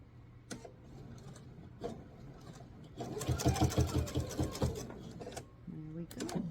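A sewing machine stitches slowly through thick travel pouch binding, in faint early bursts that build to a louder, steady mechanical run before easing off, heard close with no talk.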